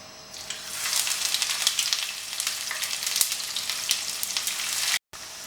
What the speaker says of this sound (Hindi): अब इसमें प्याज डालेंगे और इन्हें गोल्डन ब्राउन करेंगे